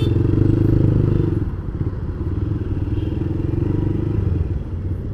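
A 2014 Honda Verza motorcycle rumbles along on the road with a steady low engine drone close by. Faint rattles and thumps ride over it, and no one speaks.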